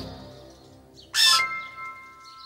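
A cartoon bird in a kids' animated show gives a short, bright chirp in the middle of the clip, set against soft background music.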